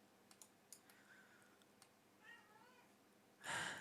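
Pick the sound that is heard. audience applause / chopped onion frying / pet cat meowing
pet cat meowing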